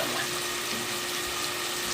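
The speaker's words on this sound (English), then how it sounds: "you add some water as well" Water poured into a pan of frying taco meat gives a steady, even hiss and sizzle, close and moderately loud, with no talking.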